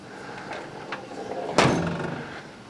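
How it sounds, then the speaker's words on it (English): Door of a 1962 Chevy truck swings shut with a single solid latching thunk midway, fairly close, followed by a short fading rattle over a quiet background. "See if the door closed."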